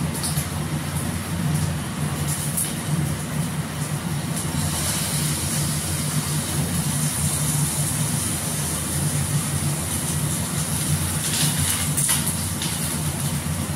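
Potato pieces frying in hot oil give a steady, loud, broadband sizzle that holds without a break throughout.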